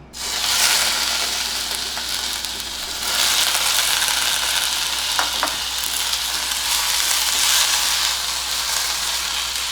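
Potatoes tumble into roasted masala frying in oil for a brinjal-potato curry made without onion or garlic, giving a loud, steady sizzle that swells at the addition, with light stirring scrapes and no talk.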